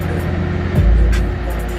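Chevrolet Corvette C7 running its factory exhaust during a ride along, a steady low rumble from inside the car that swells briefly into a deeper, louder surge before settling back to a constant drone.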